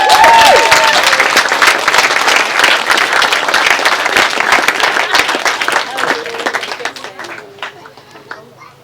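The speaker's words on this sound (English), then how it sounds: "round of applause for Mum and Dad" Wedding guests applaud the parents during the speeches, loud close clapping from many hands with a bit of cheering at the start, thinning out and tapering off toward the end.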